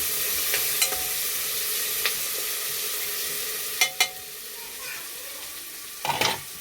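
Maggi rice with chillies fries in a pan with a steady background sizzle, while a spoon stirring it scrapes and clinks against the pan a few times.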